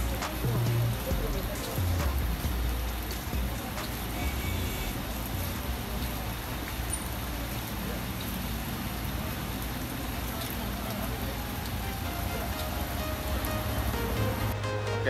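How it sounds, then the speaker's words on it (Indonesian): Heavy rain pours steadily at a bus terminal, a dense constant hiss of downpour with low rumbling vehicle noise underneath throughout. "Hujan lebat."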